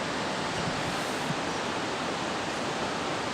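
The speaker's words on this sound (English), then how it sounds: "this is the waterfall" Jogini Falls near Manali pours as a steady, dense roar of falling water, close and continuous with no pauses and no voices over it.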